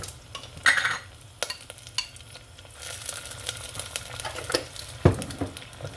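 Chopped ginger and garlic hit hot oil in a pan for mixed daal, a soft continuous sizzle with scraping stirs and a few sharp clinks of a spoon against the pan, close and moderately quiet.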